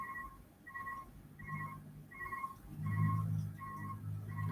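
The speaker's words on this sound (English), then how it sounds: "The telephone is ringing." A telephone rings in repeated short double-tone bursts at a steady rhythm, moderately loud, with a low background rumble beneath and no talking.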